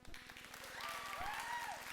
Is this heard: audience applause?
yes